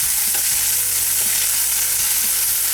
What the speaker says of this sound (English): Now I'm going to mix the onions in with it so that the flavors go everywhere in this pan.